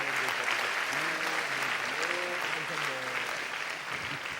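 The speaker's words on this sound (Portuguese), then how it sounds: "Pode aplaudir ao Senhor" An audience claps steadily in a loud continuous round, with voices calling out and talking over the applause.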